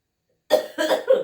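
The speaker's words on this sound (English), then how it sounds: "I have a really bad cough" Three harsh coughs in quick succession, close and loud, after a moment of silence.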